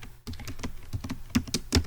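Rapid typing on a computer keyboard, a dense run of close, crisp key clicks with a few heavier strikes, alone without speech.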